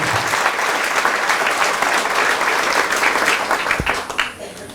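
A church congregation claps loudly at the priest's call, dense, close applause with cheering texture that thins and fades in the last second.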